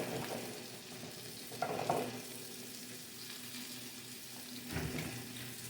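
Salmon patties frying in a pan give a steady low sizzle, with a couple of louder bursts of spattering and clatter from the pan, and no talking.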